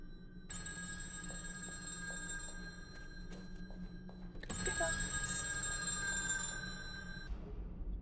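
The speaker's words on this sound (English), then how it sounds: "And the phone's ringing." A telephone rings in the horror video game Afterdream, two long electronic ring bursts separated by a short pause, set over a low ambient hum.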